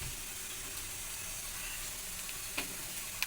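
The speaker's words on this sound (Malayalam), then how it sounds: "അപ്പോൾ ഇട്ടിട്ട് വറക്കലാണ്." Grated coconut frying in a pan for an egg and potato curry, a faint steady sizzle and hiss with a couple of small clicks near the end, no talking.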